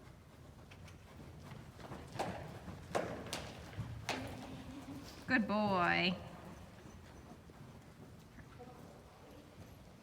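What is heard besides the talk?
horse walking, hooves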